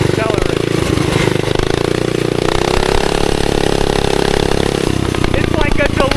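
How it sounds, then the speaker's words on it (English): A mini bike fitted with a large, cheap flea-market engine accelerates through its CVT, the loud, steady engine drone rising in pitch as the transmission shifts; voices talk over it throughout. "You give it gas, and then you feel the CVT shift, and it accelerates."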